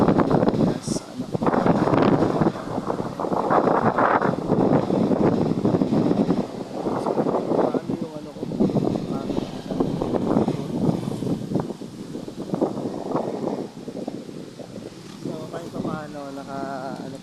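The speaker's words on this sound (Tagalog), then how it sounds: "Ano tayo ng medyo sarap-sarap na hangin dito" Steady wind blowing outdoors at a roadside rest stop, a loud continuous rush with gusty buffeting against the microphone, while people talk throughout.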